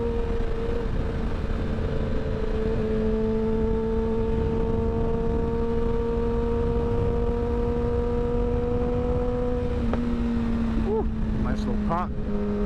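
A Kawasaki Ninja ZX10R engine drones loudly with a steady rising pitch, then clean quick-shifter gear changes cut in near the end, with a rider talking over it.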